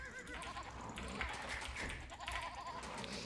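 Sheep bleat in Age of Empires II during a Dravidians opening, several short wavering calls close up and fairly faint, layered over soft game ambience.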